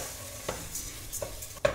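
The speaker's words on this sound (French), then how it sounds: "On fait revenir le riz avec les oignons." Rice and onions frying together in a pan for risotto, a soft sizzle broken by a few light stirring scrapes, the last one sharper and closer.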